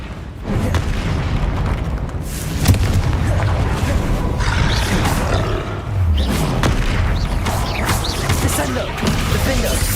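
Spell blasts go off again and again in the Hogwarts Legacy video game, with heavy booming explosions and crashes layered into a loud, unbroken wall of combat noise.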